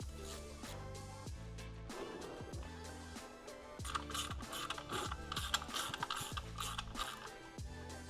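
A ratchet works the oil sump plug loose on a Golf GTI Mk5, giving rapid, close, repeated clicking strokes in an even rhythm that continue throughout with no talking.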